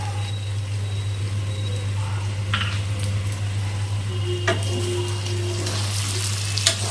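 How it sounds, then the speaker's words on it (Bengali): Ground cumin toasting dry in a pan over low heat, a continuous close crackling sizzle with a few sharp scrapes and clinks of a spatula, steady and fairly loud with no talking. "এটা আগে শুকনো শুকনো আমি একটু ভেজে নেব জিরাটা"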